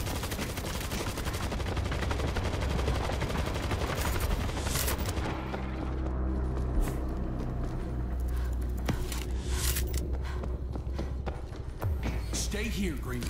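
Automatic turret fire from the zombie shooter World War Z, a dense, continuous burst of rapid gunshots running through the whole stretch alongside other game noise, with voices talking over it.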